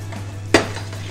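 Butter and sugar melting in a pan, a quiet sizzle with one short utensil knock against the pan midway.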